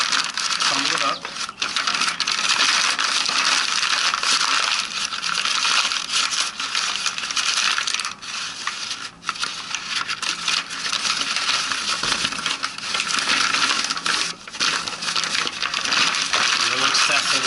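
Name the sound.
paper bag being crumpled up by hand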